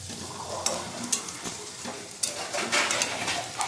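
Pieces of chicken frying for chicken kosha while being stirred, a moderate sizzle broken by repeated spatula scrapes and knocks against the pan.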